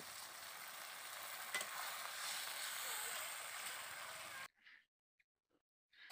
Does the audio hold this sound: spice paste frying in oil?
yes